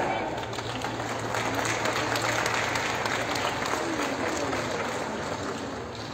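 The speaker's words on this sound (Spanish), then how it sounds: "Fuerte el aplauso, por favor, para la señora Georgina." Sustained audience applause at a government ceremony handing out glasses and mobility aids, steady dense clapping throughout under a faint voice.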